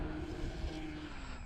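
An E-flite T-28B Trojan RC plane with a two-bladed prop flies on a windy day, its steady droning engine hum heard at a moderate distance amid wind rumble.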